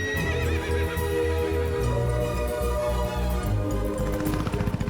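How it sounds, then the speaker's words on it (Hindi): A horse whinnies loudly and close, with hooves clip-clopping steadily beneath it as the animal arrives ridden, a dense continuous sound with no talk. "घोड़े पे सवार होकर आएगा।"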